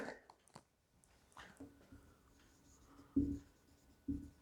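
Someone writes on a board during a physics lecture on semiconductors. Scattered faint scratches and taps come from the board, followed by a few firmer strokes near the end in a quiet room.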